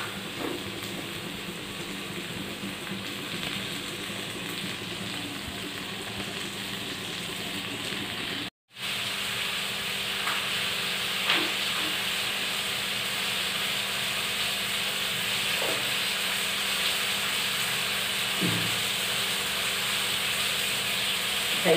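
Tea simmers in a pan on a kitchen stove, a continuous soft steamy hiss with faint bubbling ticks, broken by one brief silent gap partway through, no talking.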